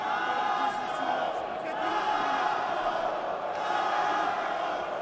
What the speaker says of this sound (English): this crowd already deafening, and we're just in the prelims